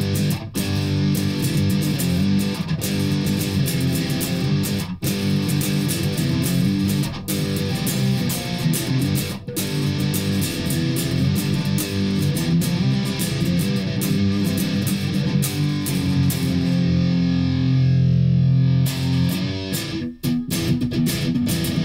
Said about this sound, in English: now for something even heavier, we have a Behringer Ultra Metal distortion.